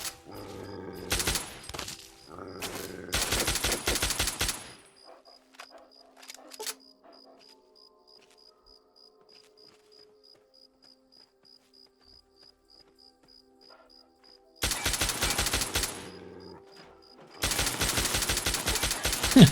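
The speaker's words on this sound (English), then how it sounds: "You can hear my bullets pinging off the robot" Gunfire in Fallout 3 with bullets pinging off a robot: two loud bursts of rapid automatic fire open the scene, then a quieter stretch of faint metallic pings and small hits, before two more long dense bursts of shooting.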